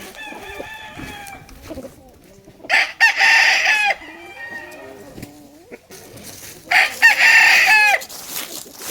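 An old gamefowl rooster in a pen crows twice, loud and close, with soft clucks and murmurs between the crows and no one talking.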